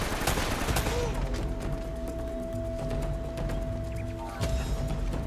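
Gunfire and grenades in Uncharted: Drake's Fortune, a rapid volley of shots and sharp bursts over a steady background hum, with a louder blast near the end.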